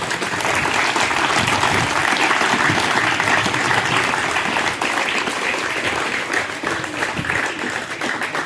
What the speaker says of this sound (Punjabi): ਇਹਨਾਂ ਦੇ ਨਾਲ ਇੱਕ ਵਾਰੀ ਜ਼ੋਰਦਾਰ ਤਾਲੀ ਮਾਰੋ